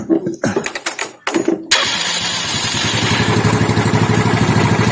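A motorcycle with a battery voltmeter fitted and a charging fault cranks over after a few seconds of talk, then catches and settles into a loud, steady, rapid idle that runs to the end.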